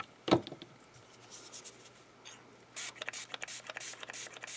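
Crayola Air Marker airbrush spraying color onto dried botanicals: a sharp click at the start, then after a quiet pause a series of short, hissing spray bursts in an uneven rhythm, close and fairly soft.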